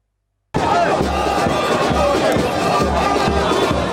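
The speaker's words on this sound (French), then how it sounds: "Une grande foule était à ses côtés au moment de se rendre au centre de la CENI pour s'enrôler." A large crowd of political supporters accompanying a party figure to an electoral registration centre shouts and cheers, a loud, dense, continuous roar that starts abruptly and never lets up.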